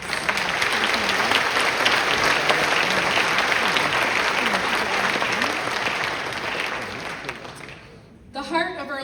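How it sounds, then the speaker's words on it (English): An audience at an Early College of Macomb commencement ceremony gives a sustained round of applause for school district officials, loud and dense for several seconds before fading, then a voice begins speaking over the hall. "Let's give them all a round of applause"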